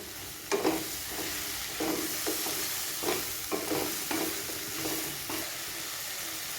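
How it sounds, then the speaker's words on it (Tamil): Mushrooms are sautéed in a pan with a steady close sizzle, and a spatula stirs them in regular scraping strokes about every half second, with no voices over it. "இப்போ காளானையும் நல்லா வதக்கிக்கலாம்."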